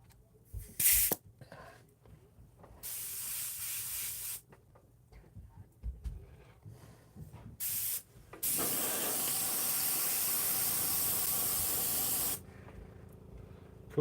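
An airbrush sprays straight illustration orange paint in short hissing bursts, then one long steady spray of several seconds, close and fairly loud, with handling noises between bursts.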